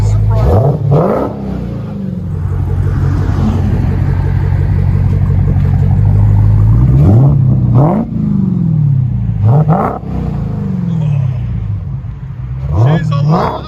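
A 2018 Dodge Demon with a 6.2L supercharged Hemi V8 and Kooks cat-back dual exhaust rumbles loudly at close range, with several sharp rev blips rising over a deep idle and people talking nearby.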